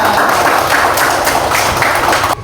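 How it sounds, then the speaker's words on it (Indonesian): A classroom of students claps together in rhythmic, loud, close bursts for a couple of seconds before stopping abruptly. "Tepuk tangan untuk kita semua."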